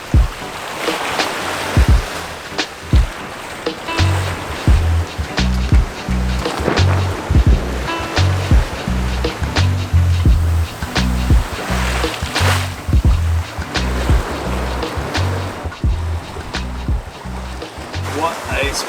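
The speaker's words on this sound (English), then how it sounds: "Sails are flapping because it is rolly, but we're still sailing at like 6 knots" Rolling sailboat in the North Atlantic off Iceland, sailing around 6 knots with sails flapping: steady sea and wind wash with repeated slapping, thumping knocks of loose canvas and rigging, under a voice talking throughout.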